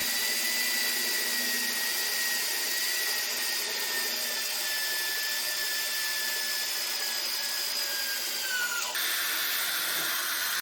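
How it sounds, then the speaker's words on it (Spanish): An electric drill bores holes at low speed through steel angle to take a bolt, giving a loud, continuous whine that holds steady, then drops in pitch and cuts off near the end. "hago las perforaciones en el ángulo para poder pasar el tornillo"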